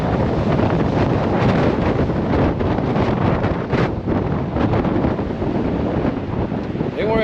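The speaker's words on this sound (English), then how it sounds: "this wind is too much" Strong gusty wind roars and buffets the microphone on the Dale's Trail in the Red Rock Canyon desert, loud and unbroken throughout, with a faint voice briefly under it.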